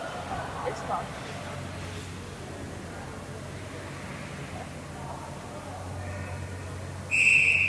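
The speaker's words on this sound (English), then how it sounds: "we have a whistle" A referee's whistle during a hockey game between Team Manitoba and Team New Brunswick at the Saskatchewan Challenge Cup gives one loud, sharp blast near the end, after steady arena ambience with commentary.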